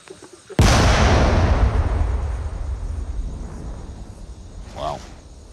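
A controlled detonation of an unexploded bomb in Laos erupts as one sudden, heavy blast, its deep rumble rolling and slowly fading over several seconds, with a brief voice near the end.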